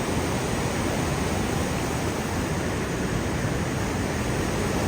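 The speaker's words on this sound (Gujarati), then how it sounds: "પાણી એટલું પ્રેશરથી આવે ને, આમ રોજ એવો પડે ને ઝણ થઈ જાય પાણી." A mini waterfall at the Gira falls near Padamdungari hill station, water pouring down with strong pressure in a steady, loud, unbroken roar from start to finish.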